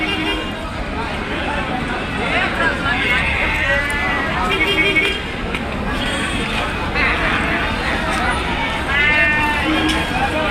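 Four-to-five-month-old rams and sheep bleat repeatedly at a busy livestock market, their wavering cries rising over constant crowd babble and general bustle.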